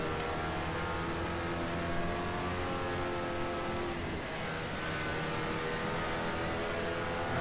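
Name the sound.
Mazda MX5 Spec Miata race car engines in rFactor 2 video game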